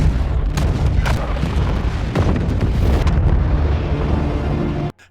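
Bombing strike on Taliban vehicles in the war film Kandahar: a loud, continuous barrage of heavy explosions and booming blasts that fills almost the whole clip, then cuts off abruptly near the end.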